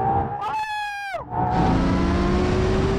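A Ferrari Enzo and a LaFerrari launching flat out from a standing start in fourth gear: a loud rising engine howl peaks and cuts off briefly, then a dense, sustained roar of hard acceleration follows.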